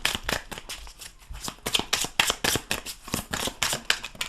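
Tarot cards shuffled by hand in a steady run of crisp riffling bursts, close and fairly loud, with no voices.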